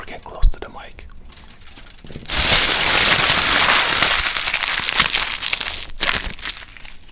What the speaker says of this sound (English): So here's all the packaging for you ASMR lovers out there.